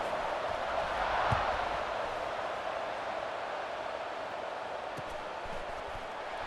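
A stadium crowd in College Football 26 at a Penn State–Maryland game after a score, making a steady, distant wash of buzzing noise with a few faint thuds.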